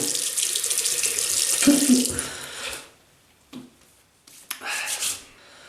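Water runs from a bathroom tap as hands are rinsed, a bright splashing hiss for a few seconds, cutting off, then short bursts of running water returning.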